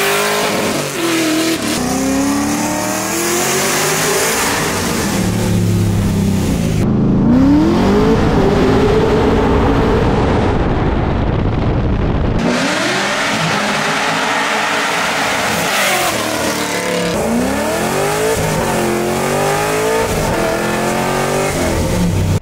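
A supercharged Ford Mustang making about 600 wheel horsepower revs hard and loud, its engine note climbing and falling in repeated surges with a brief drop near the middle before roaring back up.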